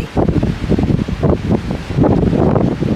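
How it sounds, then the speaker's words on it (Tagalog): Strong wind sweeps across a cruise port in Livorno, Italy, buffeting the microphone in loud, uneven gusts that surge and ease over a few seconds, with no talking. "extraordinarily windy today"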